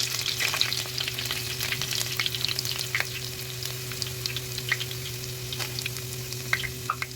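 Steady sizzling of shallots frying in hot oil after mustard seeds, with crackles and small pops scattered throughout over a constant low hum.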